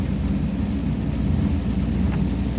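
Rain falls steadily in wet weather at Blackpool, a constant dense hiss and low rumble with no breaks, close and moderately loud, with no talking.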